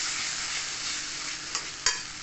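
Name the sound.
sautéing spiced ivy gourd (kundru) in a pan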